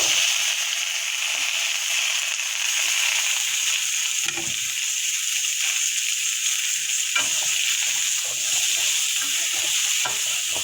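Pumpkin pieces tipped into a frying pan already holding fried dried shrimp with onion, green chilli and garlic give a steady, close sizzle and crackle, with occasional stirring scrapes and clinks and no talking.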